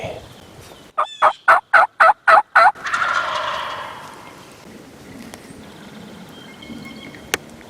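A wild turkey gobbles close by in a quick burst of six or seven loud rattling pulses. A rougher, drawn-out call follows, then a quiet outdoor stretch with faint distant bird sounds.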